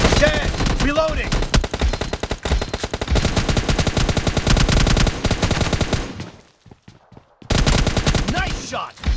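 Loud, sustained automatic gunfire from the PUBG battle-royale video game, rapid bursts running for several seconds before a short near-silent gap with a few isolated cracks, then heavy firing resumes.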